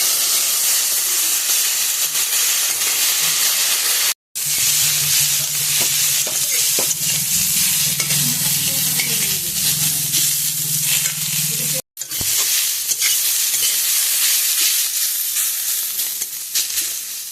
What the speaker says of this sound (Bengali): ভাজা হয়ে গেছে, এবার এটা চলো বেটে নিয়ে আসি।